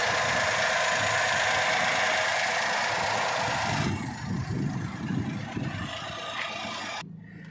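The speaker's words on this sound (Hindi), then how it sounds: "एक बार कार को स्टार्ट करके देखते हैं इंजन नॉइस।" A Tata Tiago iCNG XZ+ hatchback fitted with a factory CNG kit is started, giving a loud burst that settles into a low, steady idling rumble close by before cutting off near the end.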